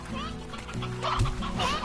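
Chickens cluck in the farming game Slime Rancher, short fowl calls rising over a busy backdrop of game music and mixed noise. A speaking voice may be mixed in.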